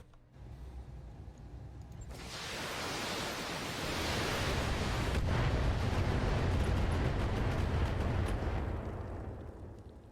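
A turret destroyed by an explosion in the Battletech mech video game: a massive roaring blast that starts abruptly and swells into a long, loud rumbling wash, slowly fading over several seconds, with no talk.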